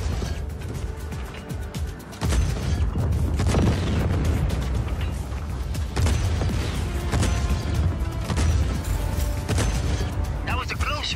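An RPG rocket explosion in the video game Just Cause 4, a heavy boom amid ongoing loud combat noise and rumble, with speech mixed in.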